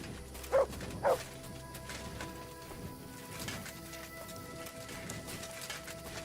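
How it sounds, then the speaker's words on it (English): Two sharp barks from Mutt, a dog in Kingdom Come Deliverance 2, ring out early over a quiet woodland ambience, followed by soft rustling and faint background game sounds. "Good dog, Mutt. Show me."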